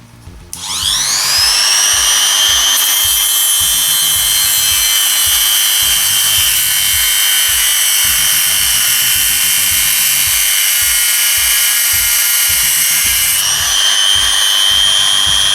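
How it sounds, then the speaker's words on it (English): Dremel rotary cutting disc slicing through a motorcycle headstock bearing on a Suzuki RF 900, a steady, loud high-pitched whine with a grinding edge that holds for over ten seconds, no talk. "I've made a nice and lovely cut here. I finished with a Dremel."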